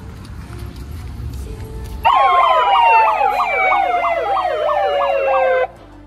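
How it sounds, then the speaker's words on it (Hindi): An eight-horn siren hooter fitted to a Mahindra Scorpio SUV blares loud and close, a rapidly warbling multi-tone wail that starts abruptly and runs steadily for about three and a half seconds before stopping. "इसका हूटर, इसमें सायरन की 8 बाल्टी लग रही हैं"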